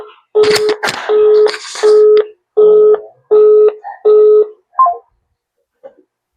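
A telephone line sounds a busy signal after dialing a breeder: a few quick dial beeps, then about five evenly spaced, loud tone pulses that stop and leave near silence.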